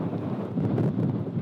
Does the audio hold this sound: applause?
no